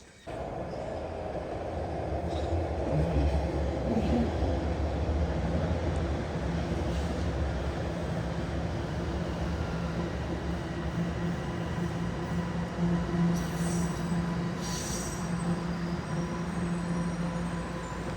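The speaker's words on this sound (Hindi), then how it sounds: "अभी जा रही हूँ मैं मेट्रो की साइड।" Underground metro train running steadily at close range, a continuous loud rumble with rolling low drone and faint higher whine, no talk.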